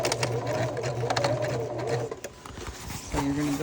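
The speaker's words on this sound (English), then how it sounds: "we are going to top stitch down both sides of the seam to really get that to set open" A sewing machine top stitches down both sides of a bag seam with a strong, steady whirring drone. It slows and pauses near the middle, then starts up again briefly at the end.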